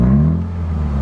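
A car's exhaust runs at a steady idle, giving a close, loud, low droning rumble with a slight rise in pitch at the start, then holding even throughout with no voices over it.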